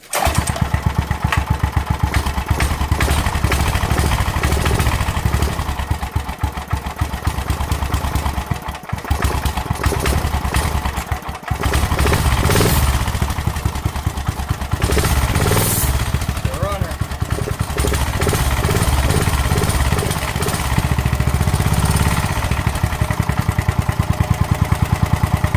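A small engine with its choke set runs steadily after starting, a loud, continuous chugging drone with brief dips, near the microphone for about twenty-five seconds.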